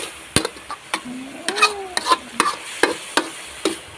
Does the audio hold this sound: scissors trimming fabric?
no